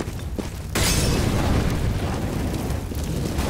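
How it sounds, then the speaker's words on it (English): A Molotov cocktail bursts in Counter-Strike with a sudden loud whoosh of broadband noise that then settles into a sustained roaring crackle of fire, close and dense throughout. "I'm throwing fire. Molotov!"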